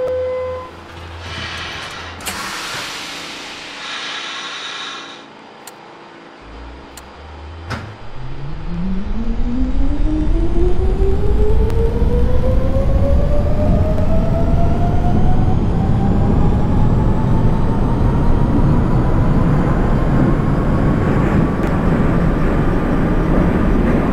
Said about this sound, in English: The Queensbound G train